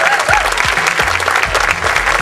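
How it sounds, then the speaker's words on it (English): An audience applauds volunteers at a hypnotist's stage show with loud, dense clapping that holds steady and close throughout. "How about a huge round of applause for all of them?"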